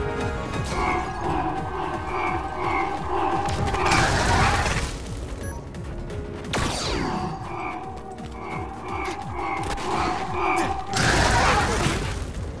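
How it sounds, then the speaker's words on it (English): Combat explosions in the video game Scarlet Nexus, several heavy crashing blasts with shattering debris over a mechanical rhythmic background, two big bursts standing out loud and close. "Don't get too close to that other. You'll get caught in this explosion."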